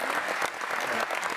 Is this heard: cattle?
no